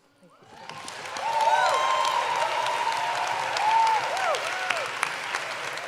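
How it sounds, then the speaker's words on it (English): Audience applause at a poetry slam final, a full crowd clapping that swells in over the first second then holds steady and dense, with faint cheers and whoops scattered through it. "Keep the applause coming now"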